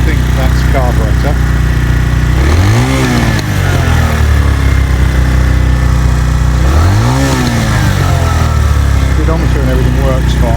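Senke X6 motorcycle engine running loud and steady close by, with two rising revs that climb and fall back, the bike reassembled but prone to bogging out and stalling.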